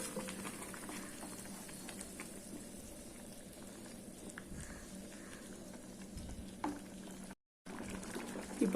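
Salted water rolls at a boil in a cooking pot for broken wheat kichadi, a soft, steady bubbling hiss that runs evenly with a brief silent dropout near the end.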